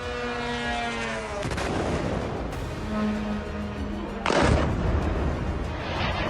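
Bombs and missiles explode over Tehran in war news footage: heavy booming blasts and a rumbling roar, with a sudden louder crack near the end, all dense and continuous without any clear speech.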